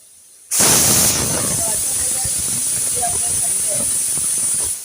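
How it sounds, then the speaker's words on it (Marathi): After a moment of quiet, a loud, sustained hiss of steam bursts out and holds steady, a pressure cooker on high flame cooking cluster beans, venting with a sharp whistling edge. "3 शिट्ट्यांमध्ये पहिल्या 2 शिट्ट्या करायच्या मोठ्या गॅसवरती"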